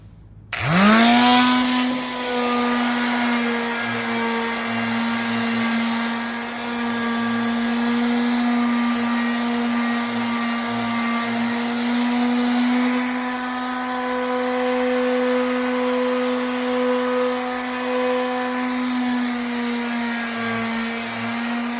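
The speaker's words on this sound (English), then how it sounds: "We got our trusty sander." A power sander runs continuously on the top of a salvaged wooden table, its motor holding a steady, loud, even whine from start to finish with no pauses and no talking.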